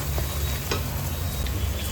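Onions frying in a pan for a chicken liver fry, giving a steady low sizzle throughout with a few faint stirring scrapes, no voices.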